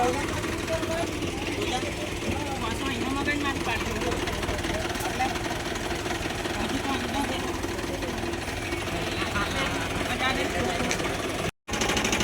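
A worn Mahindra 275 tractor engine runs in a steady, loud, rattling drone close by, with voices underneath and a brief cut-out near the end.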